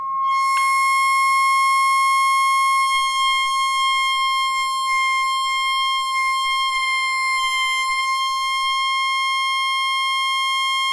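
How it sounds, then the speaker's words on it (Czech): A tone generator plays a sine tone through a loudspeaker in a physics demonstration: a loud, pure, steady pitch held for about eleven seconds with a slight waver, no speech. "Po zapnutí tónového generátoru postupně zvyšujeme frekvenci tónu."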